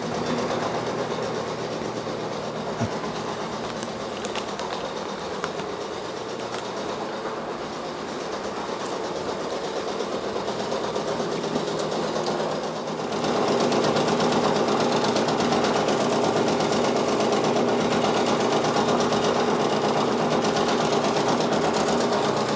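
A Brother Persona PRS 100 embroidery machine stitches steadily, a continuous close mechanical whir with rapid needle clatter that keeps an even rhythm and grows slightly louder partway through.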